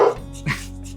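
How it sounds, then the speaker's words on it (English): Pet dogs whimper and make small noises in the background of a kitchen, one short whine near the start and another soft yelp midway, faint against room hum. "If you hear tippy-tapping or noises in the background, that would be our dogs."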